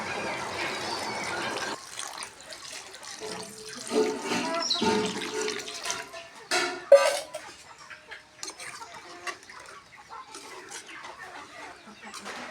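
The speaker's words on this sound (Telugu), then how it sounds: "ఇప్పుడు వాటర్ వేసుకుందాం." Water poured into a pot of mint chicken curry as it simmers: a close gurgling splash of pouring that swells and fades over several seconds, followed by quieter bubbling and clinks.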